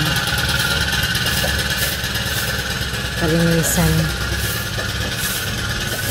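A grass cutter trims a rural provincial yard with a steady, loud, buzzing drone that runs throughout, while a voice speaks over it.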